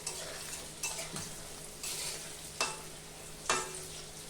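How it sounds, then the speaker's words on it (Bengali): Raw banana kofta frying in a pan for a Bengali curry, giving a soft, continuous sizzle broken by a few stirring scrapes and light utensil knocks. "আমার কোপ্তাটা ভাজা হয়ে গেছে"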